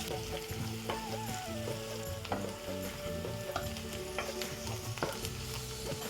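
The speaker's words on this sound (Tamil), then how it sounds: "இப்படி வதங்கி கொண்டு வருது. பெருஞ்சீரகம், வெந்தயம், பச்சை மிளகாய், வெங்காயம் போட்டிருக்கிறேன்." Onion, fennel seeds, fenugreek and green chili sauté in a pan for a Tamil fish curry, a steady soft sizzle with occasional stirring clicks, and no one speaking.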